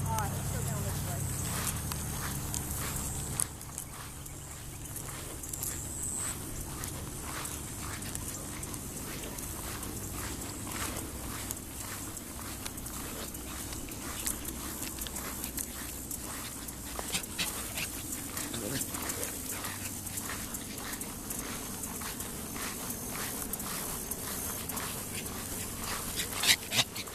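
A deaf Great Dane out on a walk pants rapidly and whimpers softly in a steady rhythm, close by and fairly quiet, with footsteps and a voice faintly in the background.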